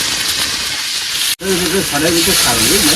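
Onion, ginger and garlic frying together in a pan give a loud, steady sizzle, briefly cut once and then continuing under a voice talking.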